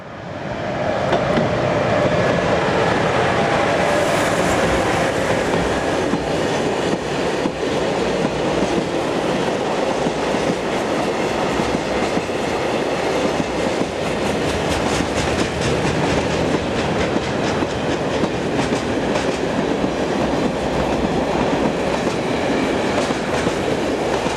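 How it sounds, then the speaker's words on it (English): A new-class electric locomotive hauls a train along the main rail line linking Germany with France, a loud, continuous rumble of wheels with rhythmic clickety-clack and faint squeal as it passes close by. "This class of loco is one of the newest to be seen working along this major rail artery linking Germany with France."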